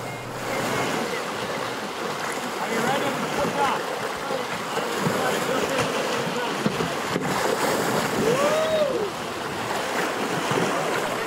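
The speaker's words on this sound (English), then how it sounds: "What a better spot than on the big waves of Lake Superior." Canoe out on the big waves of Lake Superior, with continuous wash of surf and water slapping around the hull under gusty wind buffeting the microphone, steady and moderately loud throughout.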